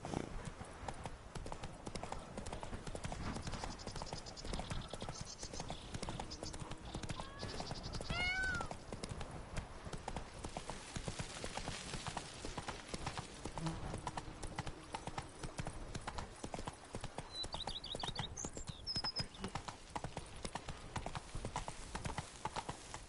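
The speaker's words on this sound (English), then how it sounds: "Come on, Roach. Giddy up." Horse hooves clip-clop at a steady, even trot throughout a ride in the video game The Witcher 3 on PS4, a continuous rhythmic patter at moderate volume with a few brief higher game sounds above it.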